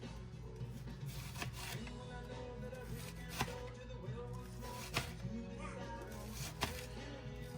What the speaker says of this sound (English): Cut it as thin as I can without cutting my finger off